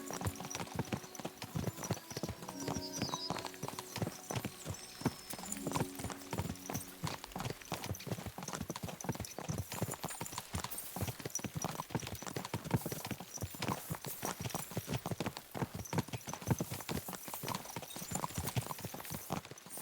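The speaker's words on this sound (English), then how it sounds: "A gente vai dar um rolê aí de cavalo." Horse hooves clip-clopping steadily at a brisk gait while riding in the video game Kingdom Come: Deliverance II, a continuous rhythmic patter of close hoofbeats with little else over it.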